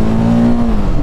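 A TVS Apache RTR 310 motorcycle, 2025 version, accelerates with a close, loud engine roar and a steady rising tone that holds throughout the short burst.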